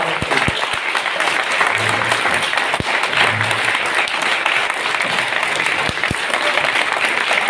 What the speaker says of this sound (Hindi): बहुत तालियों की बौछार में उनका स्वागत है